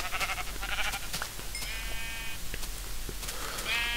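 Sheep bleating in the Minecraft video game, several short game-style bleats spread across the moment over a steady low background hum, with no talking.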